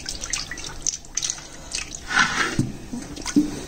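Cooking oil is poured into a pan for a ridge gourd and tomato chutney, giving close, wet dripping and splattering sounds in short irregular bursts, with no speech.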